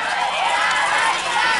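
Maringá baseball fans cheering across the field, a continuous dense roar of crowd voices and shouts held at a steady level.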